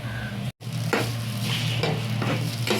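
A filling of boiled potatoes and salt for Bengali egg chops is stirred in a pan, giving a steady close scraping and sizzling with a brief gap near the start.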